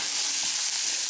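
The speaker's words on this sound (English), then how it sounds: "So I'm going to give that a couple more minutes to caramelize and reduce down." Onions caramelize in a pan with thyme, giving off a steady, close, bright sizzling hiss that continues unbroken with no talking.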